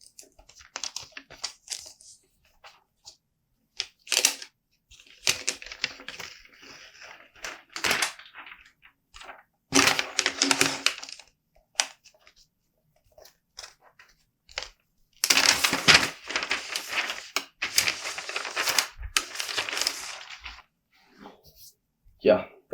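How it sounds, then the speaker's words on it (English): Crinkling and tearing plastic wrap rustles in loud bursts with quieter stretches between, up close, as a new 15-inch Apple MacBook Air is unwrapped, with a voice speaking briefly at times. "let's go ahead and unwrap this 15-inch MacBook Air"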